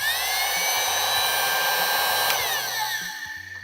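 A Parkside heat gun runs on its lower first setting, a steady close airy whoosh with a faint motor whine, holding even throughout with no one speaking.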